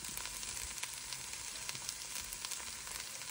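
Vegetables fry in a pan with a steady, close hiss and sizzle, faint crackles popping through the continuous spatter.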